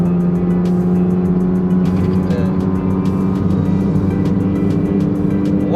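A 2013 Perodua Myvi riding on ZERONE SSR550 adjustable coil-overs cruises over road bumps, the steady engine and tyre drone loud and constant inside the cabin, with faint thumps from the suspension.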